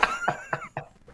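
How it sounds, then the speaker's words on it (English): Four quick, sharp coughs come in a close, even series, loud and near, followed by a faint trailing breath. "I make the cough noise that tells everybody it's beginning"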